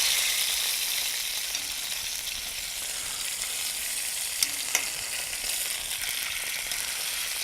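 Chicken pieces sear steadily in a hot pan, a dense, even sizzle running throughout with a couple of faint clicks near the end.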